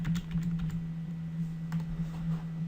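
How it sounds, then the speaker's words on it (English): Computer keyboard keys tapped repeatedly while lining up layers in image editing software, a run of soft, close clicks over a steady low electrical hum. "I'm moving the layers by pressing Ctrl and using the arrow keys on my keyboard."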